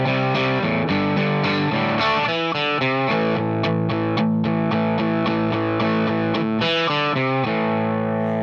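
Distorted electric guitar plays the chorus of a song as a steady, loud strummed chord progression, its palm-muted chugging opening into ringing accents, with no voices.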